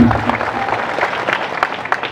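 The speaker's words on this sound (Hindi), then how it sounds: "जरा हिना के लिए जोरदार तालियों से स्वागत करें।" Crowd applause at an outdoor election rally in India, a dense sustained clapping from a large gathering heard throughout, with a speaker's amplified voice underneath.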